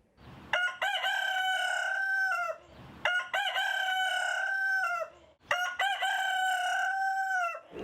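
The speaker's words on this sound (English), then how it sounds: "He's our neighborhood rooster" A rooster crows three times in a row, each call loud, drawn out and close by, with brief quiet gaps between.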